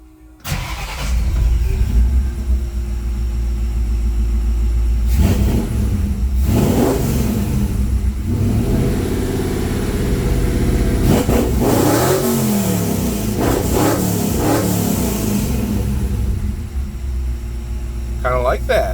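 DOHC engine in a Ford F100 pickup revving through Hooker Aero Chamber aftermarket mufflers, a loud deep exhaust idle broken by several rising and falling throttle blips, with a voice speaking at points.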